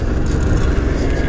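Suzuki GSX-R 750 sport motorcycle engine running loud and close during a ride, a dense continuous rumble with slight surges.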